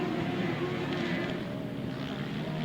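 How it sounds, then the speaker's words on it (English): Sidecar grasstrack racing engine at a meeting, a loud continuous droning roar that holds steady, with people talking over it. "Definitely sounds good for that engine, doesn't it?"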